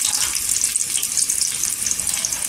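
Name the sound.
onion frying until golden for peanut chutney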